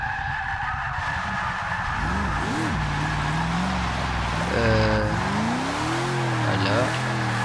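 A car drifts in the Forza 6 racing game with loud, continuous tire squeal and a rising, falling engine whine, its pitch sweeping up and down as the skid carries on close and prominent throughout.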